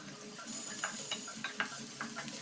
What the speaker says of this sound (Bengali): এরপর এক এক করে আমরা আমাদের পছন্দ মতো ভেজিটেবলস গুলো দিয়ে নাড়াচাড়া করতে শুরু করবো।